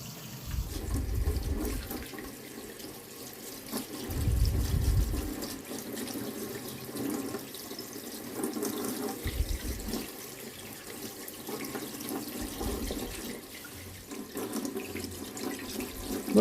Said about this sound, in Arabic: هغسلها بقى هنا اخر غسلة قبل ما احطها في المحلول الملح اللي هنعمله